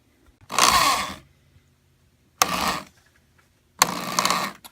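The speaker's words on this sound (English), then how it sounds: "A little screwing in later, and we have a leg." A power driver runs screws into pre-drilled pocket holes on a wooden table leg. Three close, loud bursts of whirring, each lasting about half a second to a second, are separated by silence.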